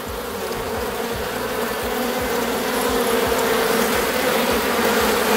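Dense, steady buzzing of many black honeybees at an open colony, close and loud, a continuous swarming drone with no talking.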